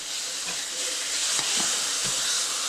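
Steak, not very thick, frying in a pan with a steady loud sizzle and hiss, a few crackles popping through, close up and with no voices.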